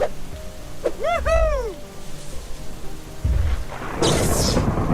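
Rain and thunder in an animated cartoon: a steady hiss of rainfall with low rumbling thunder swelling underneath and a loud crackling burst near the end, alongside a brief tonal chirp, no talking.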